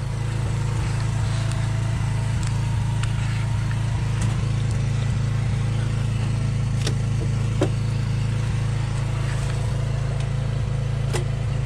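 A lawn mower engine, cold-started in winter with a frozen throttle, runs with a loud, steady low drone and a constant mechanical chatter throughout, sounding close by with no speech.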